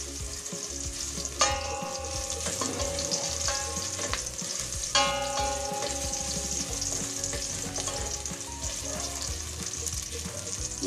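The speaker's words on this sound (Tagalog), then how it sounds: "Halo-halo lang po para hindi po masunog ang ating bawang." Garlic fries in a pan for chicken binakol, a continuous close sizzle with repeated scraping stirs and a couple of sharp utensil clinks against the pan.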